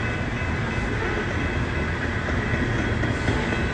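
A coal train rolls steadily past a railroad crossing with a loud continuous rumble and rattling wheels, a long unbroken passage heard up close with no talking.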